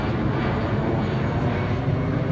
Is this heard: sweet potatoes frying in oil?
no